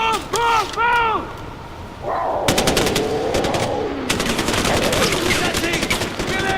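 Rapid automatic gunfire bursts in the video game Far Cry 4 rattle repeatedly over shouting voices and game effects, loud and dense through most of the stretch.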